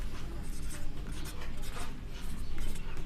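Pen or chalk scratches out a maths equation on paper or a board in a classroom lesson, a close, continuous scratching with quick bursts of strokes and no voice over it.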